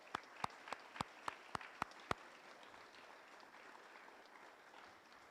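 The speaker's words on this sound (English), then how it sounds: "a round of applause for our staff" Clapping at a graduation ceremony for a service-dog program in Ponte Vedra, Florida: about eight sharp, evenly spaced claps ring out in a quick rhythm, then give way to a faint, scattered patter of applause that fades into a quiet room.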